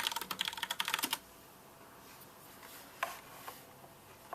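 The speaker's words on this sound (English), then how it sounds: "I'm just going to type in Mortal Kombat with that." Quick burst of typing on a computer keyboard, with a fast run of close clicks for about a second, then a near-silent pause broken by a couple of isolated key taps, with no talk.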